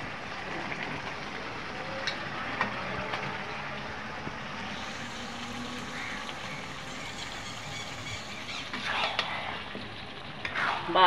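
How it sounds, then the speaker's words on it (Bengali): Farm chicken pieces fry in a red masala gravy with a continuous soft sizzle, and a utensil stirs and scrapes through the pan with occasional louder knocks toward the end. "মাংসটা ভালো করে কষিয়ে নেব"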